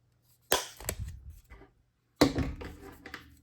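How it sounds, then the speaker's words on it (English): A 1/8 inch hand punch snaps through paper while cutting out a paper snowflake, making two separate bursts of sharp, close clicks and crunches, each followed by brief rustling. "You can just do the hole punch."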